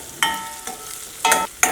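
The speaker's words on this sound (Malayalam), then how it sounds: "ഇനി മഞ്ഞൾപ്പൊടി നന്നായിട്ട് മുരിയട്ടെ" Turmeric powder being stirred and fried in a pan, heard as a few short, loud bursts of spoon-scraping and sizzle with quieter gaps between, close by and with no talking.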